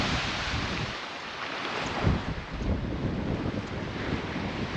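Wind buffeting a microphone while walking on Geiger Key beach in Key West, Florida, a loud broadband roar with gusty surges, likely with surf mixed in, no talk.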